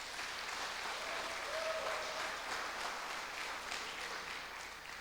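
A church congregation claps together during a worship service, a steady, dense wash of applause at moderate distance that holds evenly for several seconds with no speech over it.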